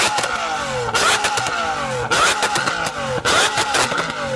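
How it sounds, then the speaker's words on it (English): A roaring Lamborghini Aventador V12 engine revving hard several times in succession, each throttle blip rising sharply then falling, very loud and close. "So I'm going to rev up my Aventador."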